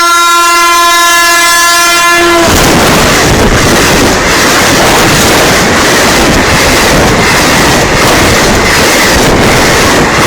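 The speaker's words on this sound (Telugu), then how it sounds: "ట్రైన్ అక్కడ ఉందిరా. చాలా స్పీడ్ ఉంది" A fast train roars past on rail tracks right beside the listener: a horn blast opens, then cuts into a loud, sustained rush of wheels and wind that fills the whole stretch without letup.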